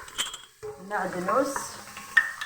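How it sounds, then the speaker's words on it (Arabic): Onion frying in a pan for a fennel tajine, with scraping and stirring clatter against the pan over a light sizzle, close and moderately loud. "نقلي البصله، نقلي البصله تاعي"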